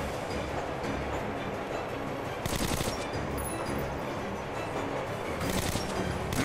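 Sustained automatic gunfire in the Metro Last Light video game, a loud, dense rattle of shots over rumbling rail noise aboard a train, with brief heavier bursts standing out.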